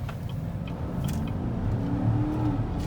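A 2017 GMC Sierra All Terrain pickup truck floored from a slow roll, its engine note climbing steadily in pitch and loudness over a dense, close low rumble.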